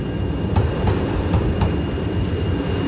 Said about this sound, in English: it didn't take long for the train to depart